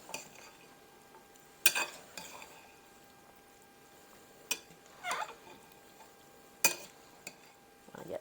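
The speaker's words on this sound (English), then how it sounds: "Now I'm going to give this a mix up the best I can." Cucumber salad vegetables are tossed in a bowl, giving sparse soft scrapes and a few sharp utensil clinks against the dish at low volume.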